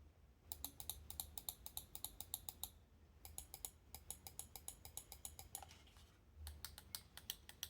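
The micro switches of an ASUS ROG Harpe Ace Aim Lab Edition gaming mouse click in rapid, close, crisp bursts, several runs of quick taps separated by short pauses, fairly quiet with no voices.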